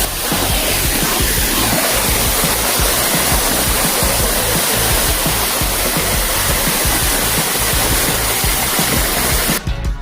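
A waterfall seen from a gate viewpoint pours with a loud, dense, continuous roar of rushing water, steady and close, with no voices over it.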